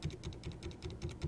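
Rapid keystrokes on a computer keyboard while editing in a Linux terminal, a steady run of soft, close clicks at an even rhythm with no talking.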